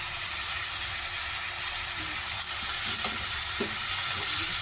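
Potatoes go into a hot pan of chicken liver and gizzard adobo, giving a steady, close sizzling hiss of frying with a few soft stirring knocks near the end.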